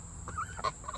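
A pet goose gives a couple of short, close honks in quick succession within a single second.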